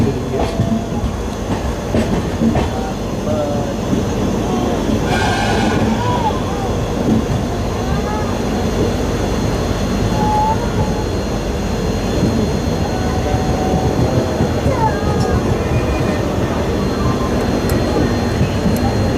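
Passenger train running toward Yesvantpur Junction, a steady rumbling roar with clickety-clack wheel rhythm heard from on board, continuous and loud throughout.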